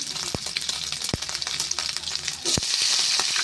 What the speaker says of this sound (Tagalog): Ngayon, isunod na natin ang sibuyas bawang dyan